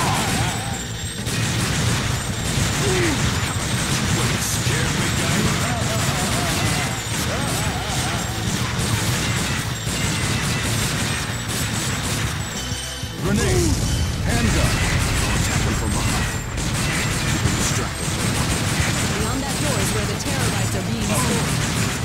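Dense, continuous gunfire from the Time Crisis arcade shooter, machine gun bursts mixed with handgun shots and crashing impacts, loud and unbroken except for a brief pause, with game voices over it.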